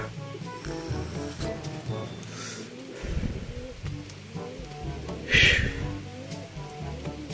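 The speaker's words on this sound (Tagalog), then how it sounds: "Umulan na naman. Ano na to?" Rain falls outdoors during a training session, a soft steady patter with scattered drops, while people talk nearby.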